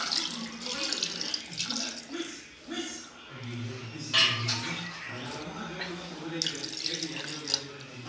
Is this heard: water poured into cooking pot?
yes